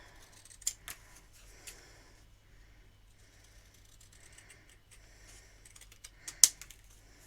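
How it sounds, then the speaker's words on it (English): Scissors snip a stamped, painted lavender paper piece for a handmade thank-you card in a few quick, close cuts, with quiet rustling between the sharp clicks and one louder snap near the end. "I'm just going to use my scissors to cut this out very easily"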